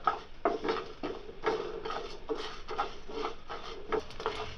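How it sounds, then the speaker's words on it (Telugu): Coriander seeds, cumin and mustard seeds are dry-roasted in a pan, and a spoon scrapes and stirs them in a steady rhythm of close rasping strokes, each roughly half a second apart. No one talks. "ధనియాలు రెండు స్పూన్లు జీలకర్ర అర టీ స్పూన్ ఆవాలు అర టీ స్పూను వీటన్నిటిని దోరగా వేయించుకోవాలి"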